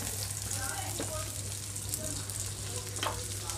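Ravva dosa batter frying in oil on a hot pan gives a steady, close sizzle and crackle, with a faint low hum beneath and no clear speech.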